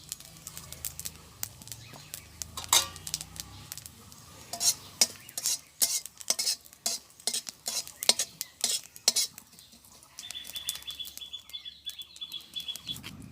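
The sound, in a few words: cumin frying in oil in a wok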